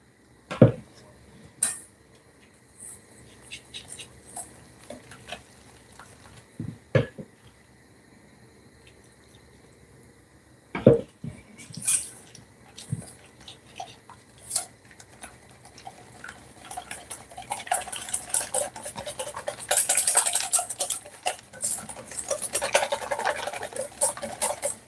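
Batter with egg for fish and chips is whisked in a bowl: scattered clinks and taps at first, then a dense, rapid run of scraping ticks building through the final stretch, close up with no talking.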